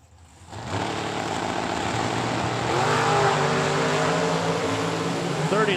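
Drag race cars at a Super Pro bracket event sit idling loudly at the strip, then rev up toward launch, a dense, close engine roar with rising pitch sweeps, while an announcer talks over it.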